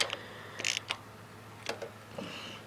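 Brief clicks, ratcheting and metallic creaks come from a wrench loosening aged, tight head bolts on a Briggs and Stratton 16hp OHV engine, close and quiet, with several short separate bursts and no talking.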